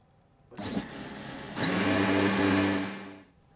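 A blender mixes a foie gras flan mixture with cream added, whirring steadily from a start-up burst into a louder, fuller blend before cutting off; close and alone.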